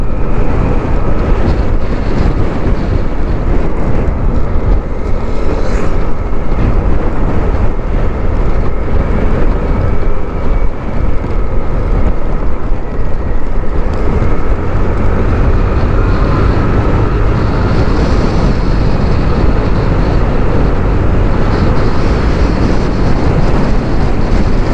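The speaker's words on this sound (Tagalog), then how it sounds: "Lakas ng hangin!" Strong wind at Twin Lakes roars and buffets steadily against the microphone, a loud, dense, unbroken rumble lasting the whole stretch with no voices.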